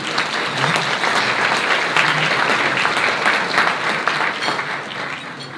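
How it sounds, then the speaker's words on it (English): An audience at a community event gives a round of applause for a guest from the Petroleum Club, steady, full clapping from many hands that holds evenly throughout and tapers slightly at the close. "just give Hushang a round of applause real quick"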